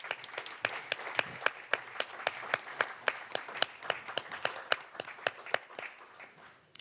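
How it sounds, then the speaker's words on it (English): Audience applause at a panel discussion on Afro-European relations, a steady run of crisp individual handclaps from a modest crowd, fairly distant, with no one talking over it. "Let's give the president a big round of applause."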